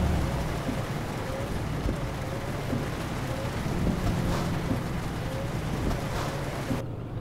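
Steady video game rain in Euro Truck Simulator 2 hisses continuously, with soft patters and a low rumble underneath, cutting off abruptly near the end.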